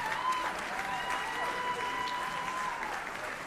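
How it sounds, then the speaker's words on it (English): Applause from a concert audience at a university music school jazz ensemble performance fills the hall, steady and moderately loud, with a faint sustained tone and some voice-like sounds running through it. "Alicia, how about a round of applause?"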